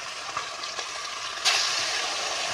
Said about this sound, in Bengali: দেখতে পাচ্ছ তোমরা মাছগুলো ভাজা হচ্ছে।